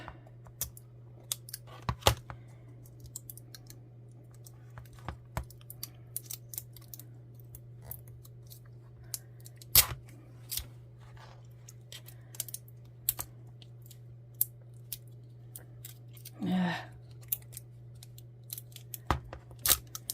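Scattered sharp snips of scissors cutting, spaced irregularly over a low steady hum, close by and without talk.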